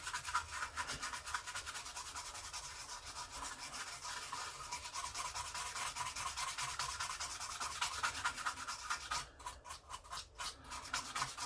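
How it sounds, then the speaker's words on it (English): Steady brushing and rubbing as a circuit board from a Sega Master System II is scrubbed with isopropyl alcohol to lift leftover flux residue, a continuous close scratchy scrub with a few sharper strokes near the end. "I'm going to get a bit of a clean with some isopropyl alcohol. Get rid of the leftover flux residue."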